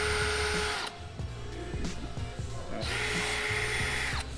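A power drill bores a larger hole through a Maxton Design side splitter on a Lexus RC F, whining steadily in two close bursts with a short pause between, no speech over it.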